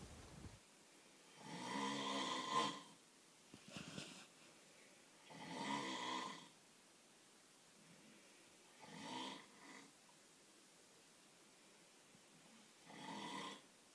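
A person snores in bed, with five slow, drawn-out snores spaced a few seconds apart and quiet pauses between them. The snores are close but faint, and no one talks.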